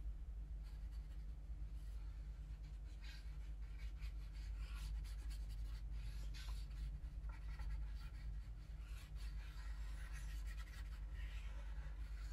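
Pencil rubbing and scratching across paper while drawing a blind contour sketch of an elephant, with the paper held on top of the head; soft, close and continuous, with irregular strokes and no voices.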